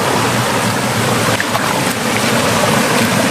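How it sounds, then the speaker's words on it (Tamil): Strong forest stream rushing hard in a steady, loud, continuous wash of water, close by, with no voices. "செம்ம பயங்கரமாக போகுது தண்ணி"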